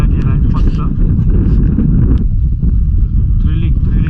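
Strong monsoon wind sweeps across Raigad fort, a steady, close roar and rumble buffeting the microphone for the whole stretch, with voices mixed in beneath it.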